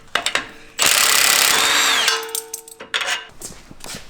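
A hand ratchet with a 21mm socket loosens the bolt holding the track bar to the front axle of a Jeep JL Wrangler, heard as a loud, close burst of rapid clicking followed by scattered metallic clinks and handling noises.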